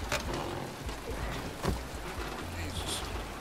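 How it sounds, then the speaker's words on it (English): Steady rain patters across the whole stretch in the video game Detroit: Become Human, a dense hiss with occasional louder drops, heard from close by. "Always raining."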